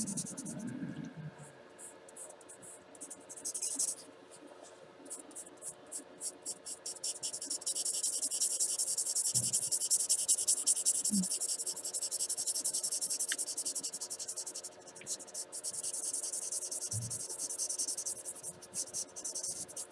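Scissors or a cutting tool working through cardstock for a country music themed card, a long run of faint rhythmic snips and scratchy rasps with a few soft taps and brief murmured talk.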